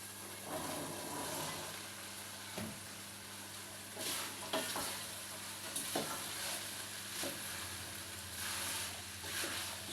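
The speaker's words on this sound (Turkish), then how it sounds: "Ben şimdi nohutlarımı ilave edeceğim." Chickpeas go into a pan of minced meat, onions and tomato paste frying for Turkish chickpea pilaf, a soft continuous sizzle with occasional spoon scrapes and stirs, fairly quiet under a low background hum.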